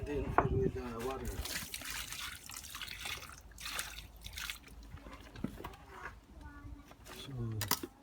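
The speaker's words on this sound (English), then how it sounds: "And then fill with water." Water is poured and trickles onto sand laid for a concrete footpath, giving uneven splashing and dribbling that rises and falls over several seconds, with brief voices in between.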